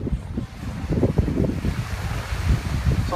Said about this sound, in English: the wind's kicking up out here